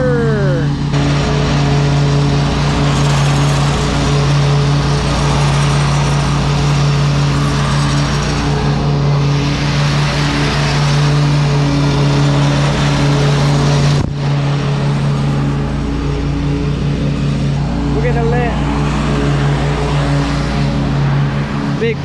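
A riding lawn mower's engine drones steadily and loudly throughout while mowing with side discharge, a strong constant hum with a brief dip midway; a voice talks over it.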